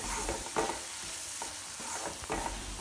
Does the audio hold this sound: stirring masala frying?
yes